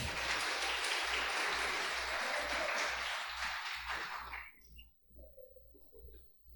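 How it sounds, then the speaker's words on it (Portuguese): A church congregation gives a round of applause, steady clapping for about four seconds that then stops abruptly, leaving a quiet room with faint sounds and a low hum. "Pode ser uma salva de palmas para o Danilo, gente."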